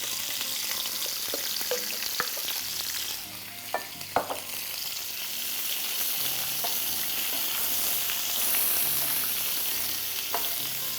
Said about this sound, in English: And now we will add the remaining sliced onions to cook.